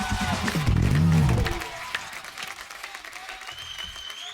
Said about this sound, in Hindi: जोरदार तालियां एक बार संजू सर के लिए।